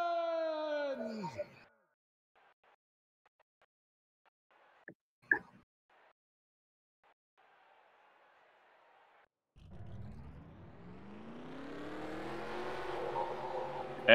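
Race car engines in a racing video game fire up and rev loudly with a rising, climbing pitch after a long quiet stretch, following a brief falling tone and a few faint clicks.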